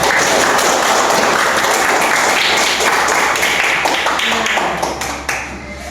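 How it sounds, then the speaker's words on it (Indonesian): Students in a biology classroom clap for themselves, a loud, dense burst of applause from a room full of people that holds steady before trailing off near the end. "Tepuk tangan untuk kalian semua."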